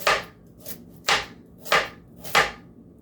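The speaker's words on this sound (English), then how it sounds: "Yeah, I'm gonna chop up the carrots." Carrots being chopped with a large kitchen knife on a cutting board for a homemade beef stew: four sharp, close chops spaced about half a second apart, with no talking.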